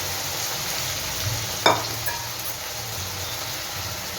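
Pumpkin paste frying in a pan, with a steady low sizzle and a couple of brief sharp clinks of a spoon against the pan, no talking.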